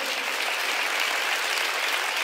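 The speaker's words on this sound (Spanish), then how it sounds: "Le damos un aplauso a ellos." A church congregation at a Spanish-language service applauds, a dense, continuous wash of clapping that stays loud and even throughout.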